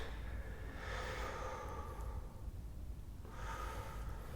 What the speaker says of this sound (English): Keep breathing. Big breaths.